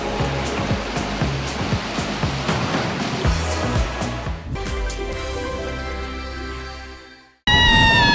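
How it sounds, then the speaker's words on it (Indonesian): A tiered waterfall at Curug Kencana in West Java roars steadily with dense rushing water, loud and continuous, then cuts out briefly before a different bright tonal sound begins at the end. "ada juga nih air terjun bertingkat yang ada di sekitar Curug Kencana"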